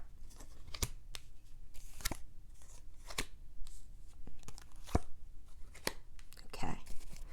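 Quick bursts of tarot cards being riffled and shuffled, several crisp papery flurries in a row, close up and fairly soft, with faint breathy background noise.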